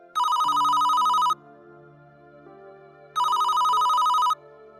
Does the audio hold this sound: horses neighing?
no